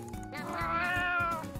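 A cat in the video game Raise a Floppa 2 lets out a single drawn-out meow, close and clear with no talking over it.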